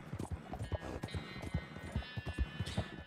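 A horse trots along in Red Dead Redemption 2, its hooves clip-clopping in a quick, steady rhythm at close range, with faint tack jingling and a light whinny-like tone near the end.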